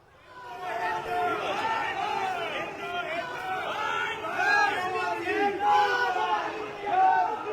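Protesters chant slogans in front of a high commission, a dense crowd of overlapping raised voices shouting in rough rhythmic bursts that swell and fall in loudness the whole time.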